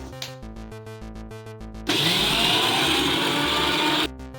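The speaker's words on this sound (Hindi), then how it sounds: "अब हम इसे ग्राइंड करेंगे।" An electric mixer grinder blends soaked lentils into batter, first pulsing in short rhythmic bursts and then running as one loud, continuous, steady whir for about two seconds before cutting off, close and alone.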